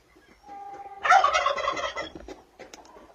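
A turkey gobbles loudly nearby in one rapid warbling burst, with softer bird sounds before and after.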